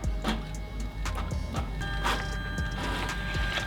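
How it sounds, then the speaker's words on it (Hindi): A Brother DCP-T426W ink tank printer printing a black page: steady mechanical whirring hum with repeated ticking and clicking of the feed and print head, moderately quiet and continuous. "सबसे पहले ब्लैक प्रिंट करने जा रहा हूं मैं, तो मोनो पे आपको प्रेस करना रहेगा।"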